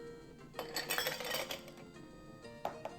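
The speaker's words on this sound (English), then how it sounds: "Now we can add our ice" Ice is dropped into a cocktail shaker for a bourbon drink, a short burst of rattling, clattering cubes followed by a few lighter clinks, close and without talking.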